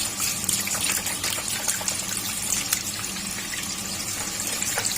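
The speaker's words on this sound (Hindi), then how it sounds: "गोश्त को अच्छे से वॉश कर लेंगे पानी के साथ।" Tap water gushes steadily while lamb meat is rinsed, a continuous close splashing and trickling with no voices over it.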